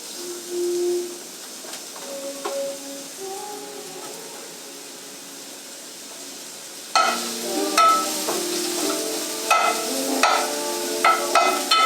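Broken-up mushrooms cooking in a pan for a low carb creamy mushroom Tetrazzini, starting with quiet handling and scraping, then a louder close sizzle with stirring clatter in the second half.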